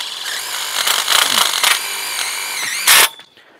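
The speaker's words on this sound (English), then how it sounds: "Drill it in there." A power drill drives a screw into a shade house bow joint, whining up in several short bursts before a final loud spin, close and clear.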